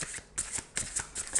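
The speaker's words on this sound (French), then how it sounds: "Alors, on va tirer une autre carte." Tarot cards shuffled and drawn in short riffling bursts, three quick papery swishes close by with brief pauses between, no voices.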